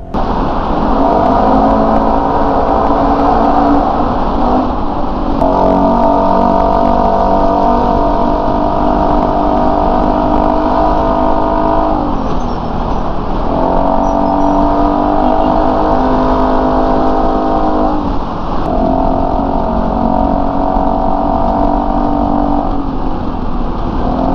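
Car engine breathing through an Orion JMAC muffler pipe inside a road tunnel, a loud droning exhaust that swells in three long revving waves and settles back between them, booming off the walls.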